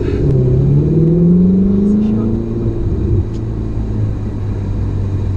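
A 2017 Ferrari 488 GTB engine revs up in a rising, sweeping pull, then settles into a steady idle drone, loud and close.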